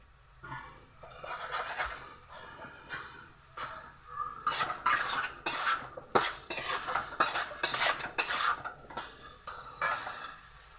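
Ginger paste being stirred in a cooking pot, with a utensil scraping and clinking against the metal in irregular, fairly close strokes that grow busier and louder through the second half; no talking.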